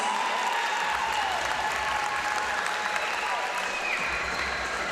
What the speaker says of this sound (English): please give Timothy Johnson and his family a round of applause